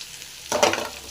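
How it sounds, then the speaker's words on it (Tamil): Ginger paste, salt and tamarind, with grated coconut, hit a hot pan and start frying, with a short burst of sizzling and stirring that rises suddenly from near silence. "இது எல்லாத்தையும் போட்டு நல்லா கொஞ்சம் ஃப்ரை பண்ணிங்க"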